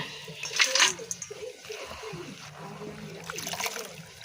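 Peas and cabbage being washed in water, with splashing and trickling that swells near the start and again toward the end, close by, with faint talk in the background.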